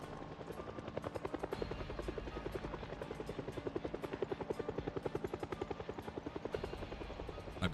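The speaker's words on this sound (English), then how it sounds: "I've got the audio turned down because the helicopter is just so loud" A helicopter flies overhead, its rotor beating in a steady, rapid pulse that stays loud and close throughout, with no one talking over it.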